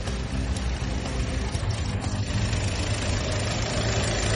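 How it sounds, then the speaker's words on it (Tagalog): A car engine idles steadily nearby, a low even rumble that holds constant throughout with no revving and no talking. "Sakay sa sasakyan, tapak sa preno, start ang makina."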